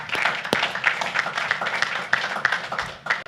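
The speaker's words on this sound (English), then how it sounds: "She was crowned, so we applaud her as well." Audience at a city council meeting in Carrollton applauds, a brisk, close patter of many hands clapping with a few sharper individual claps, steady and moderately loud for a few seconds.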